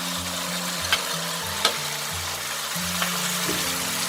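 Noodle stir-fry cooking in a wok as oyster sauce goes in, a steady sizzle under a low hum, with a few scraping clicks from stirring.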